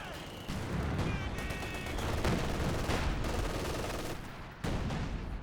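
Gunfire in the Company of Heroes 2 strategy game, including machine-gun fire, comes as repeated sharp bursts and bangs over a busy battle backdrop, with commentary audible faintly underneath.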